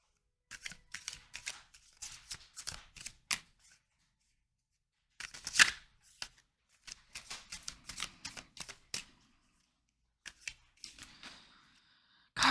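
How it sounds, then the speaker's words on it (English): Rider-Waite tarot cards being shuffled in several short riffling bursts separated by pauses, close and fairly quiet, with no talking. "Let's pull a couple cards."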